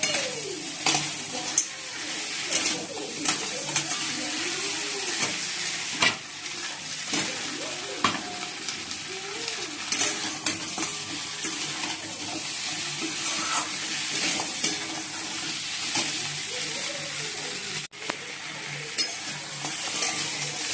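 Potatoes are stir-fried in a pan in a home kitchen, with a continuous soft sizzle under repeated scraping and stirring strokes of a spatula that come at an irregular rhythm throughout.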